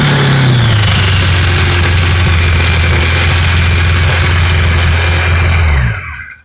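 A small engine, started with choke and throttle, runs loud and close with a steady droning hum and a slight dip in pitch early on, then cuts off abruptly near the end, leaving a brief fading rattle. No voices.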